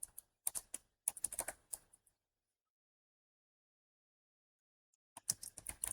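Keys clatter on a computer keyboard as router configuration commands are entered, quick close bursts of taps for about two seconds, then silence, then another burst of typing.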